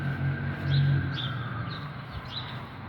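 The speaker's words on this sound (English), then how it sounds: "It's weird how you hear birds and really early like this." A few faint bird chirps drift in over a steady low hum and background noise, scattered and distant, in the early morning in Buffalo, New York.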